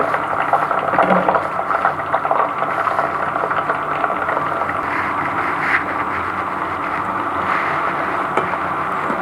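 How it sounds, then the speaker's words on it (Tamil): Ivy gourd frying in hot oil in a kadai, a loud, continuous bubbling hiss that holds steady throughout with no voices over it. "கோவக்காய் வந்து இப்படியே எண்ணெயில் வந்து நல்லா ஃப்ரை பண்ணி எடுத்துருங்க"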